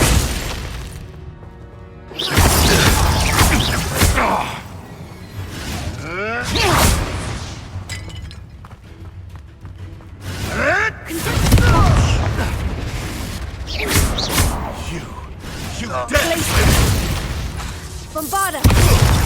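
Bombarda blasting spells going off in Hogwarts Legacy, several loud booming explosions with shattering crashes and whooshes across a busy fight, mixed with voices shouting and talking between blasts.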